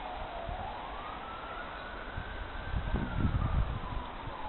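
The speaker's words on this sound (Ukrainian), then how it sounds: "а там сирена міліцейська, мабуть, поліцейська" A police siren wails from beyond an oak forest, its tone rising and falling slowly and steadily at a moderate distance over rustling outdoor background noise.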